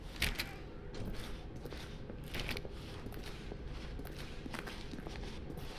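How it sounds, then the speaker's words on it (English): Soft, faint footsteps walking through a door in The Stanley Parable video game, a steady series of light steps over a quiet background. "Stanley walked through the red door."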